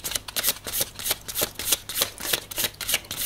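Tarot cards being shuffled for a reading, a steady run of crisp riffling bursts repeating about every half second, close and fairly loud with no voices.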